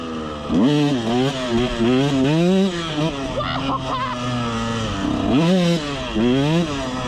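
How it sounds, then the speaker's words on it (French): A KTM 125 SX two-stroke dirt bike pulls wheelies, its engine revving in repeated rising and falling wails, loud and close, with brief pauses between pulls. "là c'est l'heure de faire des petits wheelings"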